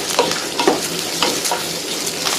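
Garlic frying in a pan for a traditional sesame gravy. A loud, close, continuous sizzle carries a few sharp scrapes and clinks as the pan is stirred, with no voices.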